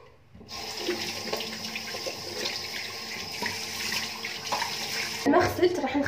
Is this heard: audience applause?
no